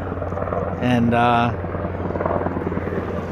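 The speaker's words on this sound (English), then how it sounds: "There's a helicopter right there, Black Hawk helicopter" A Black Hawk helicopter passes overhead during bass fishing from a Pelican BassRaider 10e boat on a flat area, its rotor drone steady and loud throughout, while someone talks over it.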